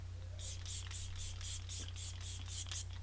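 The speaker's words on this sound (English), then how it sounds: "I'm going to give my skin another spritz of the setting spray." A rapid series of about ten short spritzes of makeup setting spray onto a face, in steady rhythm, close and fairly soft, over a low constant hum.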